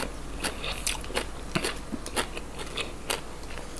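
Biting into a Vietnamese boiled duck egg eaten with spicy papaya salad: a string of sharp, close crunchy bites and chewing noises recur at an irregular pace, with no talking.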